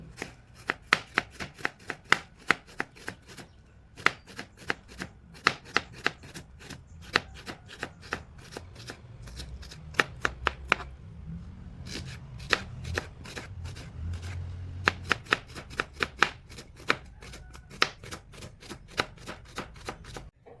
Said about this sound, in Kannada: ಇವಾಗ ಒಂದು ಈರುಳ್ಳಿಯನ್ನು ಸಣ್ಣ ಸಣ್ಣದಾಗಿ ಕಟ್ ಮಾಡುವ ನೋಡಿ